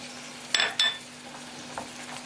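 Minced meat, peppers, onions and tomatoes fry in a pan while a utensil stirs them, giving two quick scraping clinks over a faint, soft sizzle.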